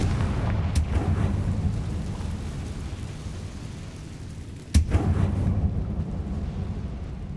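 A Confringo fire spell blast in the Hogwarts Legacy video game, a sudden sharp burst over a constant rumbling, roaring backdrop, with an earlier smaller crack near the start.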